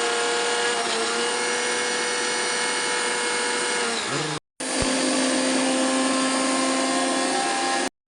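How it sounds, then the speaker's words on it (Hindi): An electric mixer grinder grinding paste in a village kitchen, a loud, steady motor whine that runs on, stops briefly, then starts again and continues at full strength. "वो अब हम करेंगे ग्राइंडर।"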